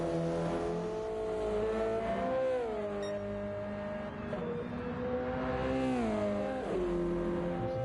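GT2 race cars lap Dragon Trail Seaside in a racing video game. A loud engine note climbs and dips through gear changes, with a steady high whine and no voices.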